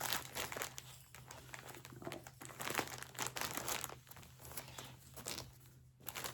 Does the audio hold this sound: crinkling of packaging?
yes